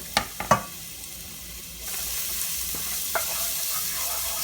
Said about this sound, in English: I'm going to cook this minced garlic on a medium to low heat